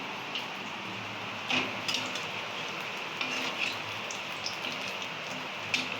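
A steady sizzling hiss of yam fritters frying in oil, with occasional crackles and faint clinks of utensils.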